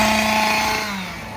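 A chainsaw engine whines loudly nearby in a Halloween haunted-forest attraction at Six Flags Great America, its pitch holding high then dropping as it winds down.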